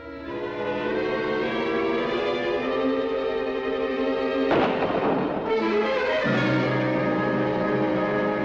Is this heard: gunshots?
yes